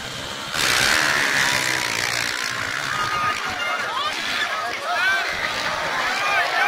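A motocross motorcycle engine screams as it climbs a steep hill at the 2018 Chýnov hill climb. It is loud and sustained with rising and falling revs, over a continuous noisy outdoor background.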